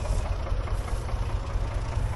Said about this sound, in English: A light tractor like this, 2-wheel drive, no front end loader. It's a great little raking tractor, it really is.